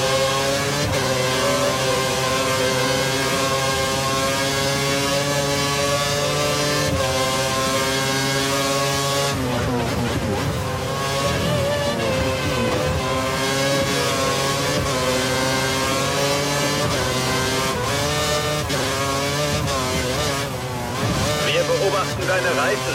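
Formula 1 race car engine from F1 2013, a Sauber in the Spanish Grand Prix career mode, holding a loud, sustained high-revving whine with steady harmonic tones and brief gear-shift dips, under continuous engine noise throughout.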